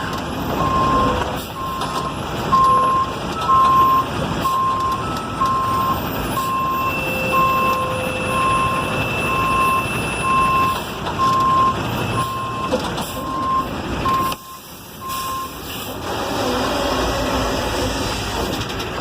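Truck reversing alarm beeping in a steady, evenly spaced series while the rig backs up under a trailer, with engine rumble and yard noise underneath.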